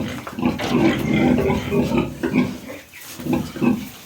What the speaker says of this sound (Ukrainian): Ось такі прикольні свині.